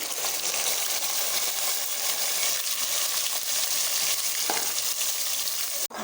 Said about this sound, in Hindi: 3 प्याज ली थी, उसका मैंने पेस्ट बना लिया है, तो डालेंगे।